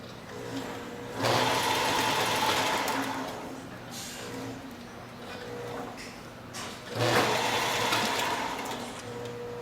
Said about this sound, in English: Similar to a sewing machine, the farther the operator presses the foot pedal, the faster the taping process.